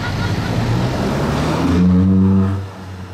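A Ferrari 458 Aperta arrives at a busy car gathering, its engine note swelling over crowd chatter and then holding a steady low drone before easing off.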